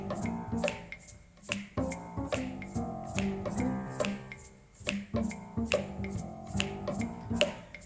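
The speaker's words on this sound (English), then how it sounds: "it's just you snapping your fingers" An audience snaps their fingers in a steady group rhythm, the crisp clustered clicks repeating evenly in a room without talk.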